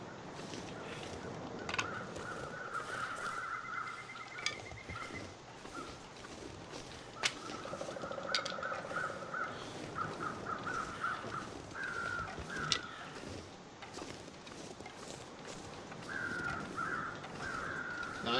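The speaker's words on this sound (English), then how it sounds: "Now I hear a lot of birds" Crows caw in repeated rapid runs in The Long Dark, the harsh calls coming in rhythmic series over a steady windy ambience, moderately distant, with occasional sharp clicks and footsteps.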